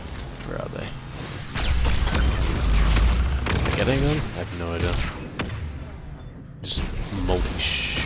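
Rocket fire and explosions in Mass Effect 3, a dense run of booming blasts and gunfire that swells and fades across the fight, with voices calling out in the background at times.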